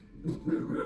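A pet dog gives a short, muffled bark and whine indoors, brief and moderately faint, with no one talking over it.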